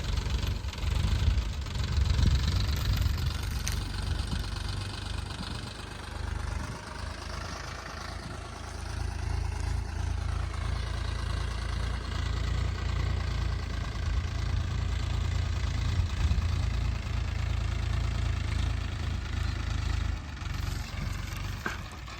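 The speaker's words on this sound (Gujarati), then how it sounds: "કાકાને ટ્રેક્ટર ચલાવવા માટે આપેલું છે કાકા એમ તો ટ્રક ચલાવે છે પણ ટ્રેક્ટર એને બરાબર ફાવતો નથી એટલે ધીમે ધીમે ચલાવે છે" A Mahindra Yuvo tractor engine runs steadily throughout as it is driven slowly, a low, throbbing rumble that chugs on without a break and no voices.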